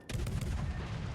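A battleship's guns fire in the naval video game World of Warships, producing one loud, close booming salvo with a rumbling tail that holds steady for about a second.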